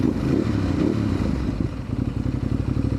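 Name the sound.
Ducati DesertX motorcycle engine revving on off-road ride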